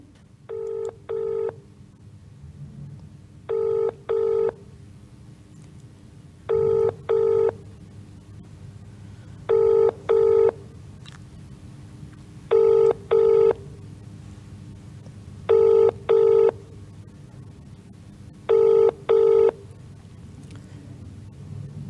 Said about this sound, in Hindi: चलिए इस मामले में हम अधिकारी को फ़ोन लगाते हैं